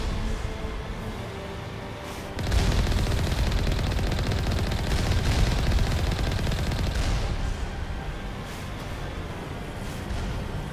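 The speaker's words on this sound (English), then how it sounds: "I think that's artillery." Sustained heavy artillery and gunfire in a video game, a dense continuous barrage of blasts and rapid fire that grows louder after a couple of seconds and rumbles on without talk.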